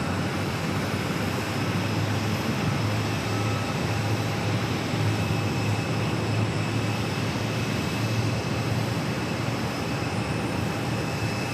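Alaska Airlines jet taxiing at Phoenix Sky Harbor airport, heard as a steady, continuous engine roar and whine at moderate distance, unbroken for the whole stretch with no talk.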